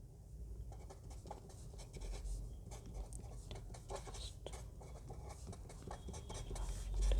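Pen or chalk writing out matrix cofactors during a maths lesson, a steady soft scratching and tapping that runs continuously, close and fairly quiet with no talk.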